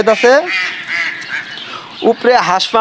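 Several ducks quack loudly and close by in a busy, overlapping chorus, with short bursts of honking calls rising and falling.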